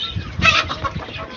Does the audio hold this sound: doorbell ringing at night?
no